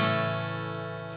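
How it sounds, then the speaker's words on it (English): A six-string acoustic guitar rings out with a sustained strummed chord, full and close, its notes slowly decaying with no voices over it. "I am playing the guitar."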